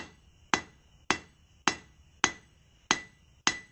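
Hammer striking hot steel on an anvil while drawing out a taper for the hook of a fire poker, with six evenly spaced ringing blows about half a second apart, close and clear with no talk.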